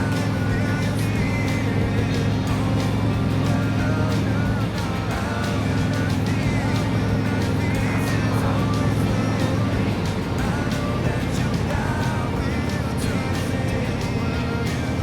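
Steady engine drone of a motorcycle cruising along a road, a continuous mid-level hum with wind rush and passing traffic, holding fairly even throughout with faint talk over it.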